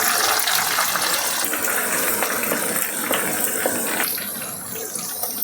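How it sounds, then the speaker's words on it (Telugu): Green chilies and curry leaves deep fry in hot oil for a chicken fry, giving a loud, continuous close-up sizzle and hiss that runs unbroken throughout. "పచ్చిమిర్చి వేసుకొని, పచ్చిమిర్చి కూడా డీప్గా ఫ్రై చేసుకోవాలండి."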